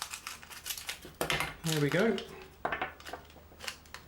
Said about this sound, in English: So I'm going to have to use the scissors again.